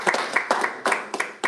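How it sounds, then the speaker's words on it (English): A short round of applause from a small group during a live practice session, with several bursts of hand clapping in quick uneven clusters, fairly close and with no talking. "give a round of applause"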